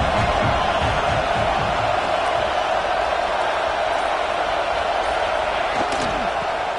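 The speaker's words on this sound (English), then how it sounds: "Listen to the crowd energy here in the early going." A large stadium crowd at a football game roars steadily throughout, a dense wall of cheering and noise with no breaks.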